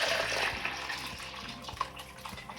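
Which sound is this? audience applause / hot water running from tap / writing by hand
hot water running from tap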